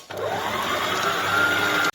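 A kitchen mixer whirs steadily for about two seconds as it kneads focaccia dough, a continuous motor drone that cuts off abruptly.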